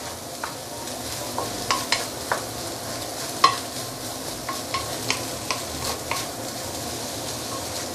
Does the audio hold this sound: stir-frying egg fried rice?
yes